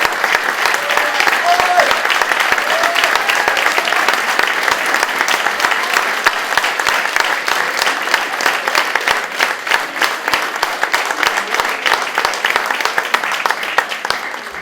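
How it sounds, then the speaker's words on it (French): Long, steady applause from an audience at a dance gala, many hands clapping continuously and loudly for the dancers, with occasional voices beneath. "pour qu'on vous applaudisse"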